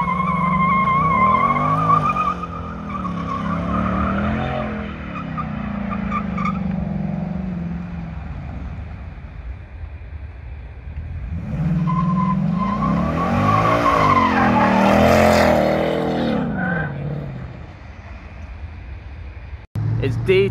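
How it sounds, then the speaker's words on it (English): A Ford Mustang fastback runs laps on a track on a freezing day, its engine note rising and falling in long sweeps as the tires squeal and skid through the corners, loud and fairly close. "He's actually currently driving his fastback Mustang"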